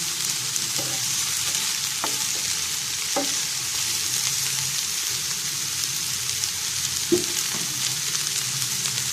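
Sliced bitter gourd sizzles steadily in a hot pan while a spoon stirs it, with a few soft scraping knocks against the pan over a continuous crackling fry.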